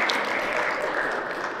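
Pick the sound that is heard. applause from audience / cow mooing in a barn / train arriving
applause from audience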